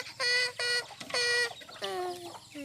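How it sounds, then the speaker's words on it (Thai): Thai native backyard chickens cluck nearby in several loud, drawn-out calls, one after another, over a low background hum. "ไก่บ้าน ไก่บ้านพื้นเมืองครับ"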